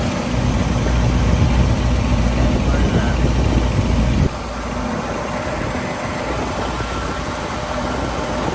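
A Willys car with a small block engine idles while warming up, giving a steady low rumble that runs throughout and drops slightly in level partway through.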